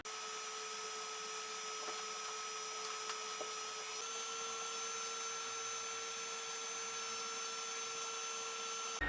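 A Silvercrest SEM 90 C3 ice cream maker churns thick ice cream mix, its motor giving a faint, steady hum with a constant tone throughout, close up and uninterrupted by voices.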